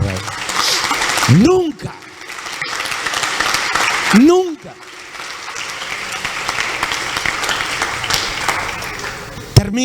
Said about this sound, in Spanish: le dan un aplauso fuerte al Rey